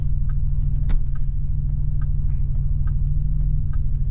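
A 1986 Buick Regal T-Type with a turbocharged 3.8-litre V6 idles steadily nearby. The low, even rumble carries a faint ticking rhythm throughout.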